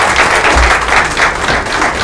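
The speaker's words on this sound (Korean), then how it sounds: "박수로 환영합니다." A forum audience applauds to welcome a speaker, a dense, steady wash of many hands clapping, loud and continuous with no talking over it.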